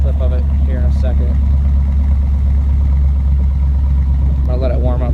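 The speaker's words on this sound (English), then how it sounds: "But I'll do a little exhaust clip of it here in a second." A truck engine idles through a 3.5 inch exhaust pipe exiting on the passenger side, a steady low rumble running the whole time with a voice talking over it at the start and end.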